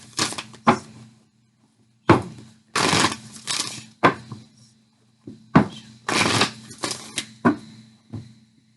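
A deck of love-themed tarot-style cards being shuffled up close, with several crisp riffling bursts separated by short pauses and no talking.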